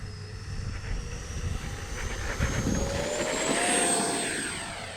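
A FlyFans K-8 Red Falcon RC model plane whines steadily as it takes off from a bumpy grass runway, its motor tone climbing and growing louder as it rises and passes nearby.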